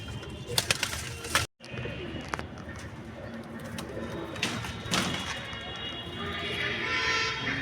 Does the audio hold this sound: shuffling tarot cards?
no